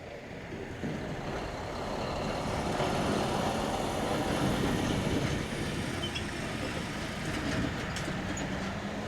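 Railroad maintenance-of-way machines, a tamper and a ballast regulator, work on a CN line, making a steady diesel rumble and mechanical clatter at moderate distance, with faint high clinks later and no voices.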